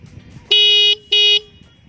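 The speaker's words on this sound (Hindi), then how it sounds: "इसका हॉर्न मैं आपको सुना के बताता हूँ" A 2023 TVS Sport motorcycle's horn sounds two loud, close honks, each under half a second, with a brief pause between.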